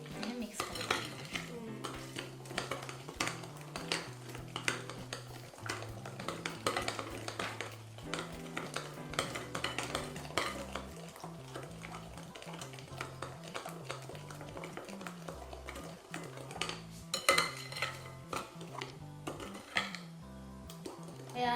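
Butter cookie dough being mixed in a bowl, with utensils clinking and scraping steadily against the bowl for the whole stretch over a low bed of background music.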